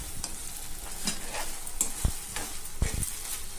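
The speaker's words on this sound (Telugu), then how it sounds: "ఇది లో ఫ్లేమ్ లో కాకుండా హై ఫ్లేమ్ లో పెట్టుకొని బాగా కలుపుకోవాలి." Fried chicken pieces for chicken Manchurian get stirred in a pan on high flame, with a steady sizzle broken by scraping strokes of the spatula, close and moderately quiet.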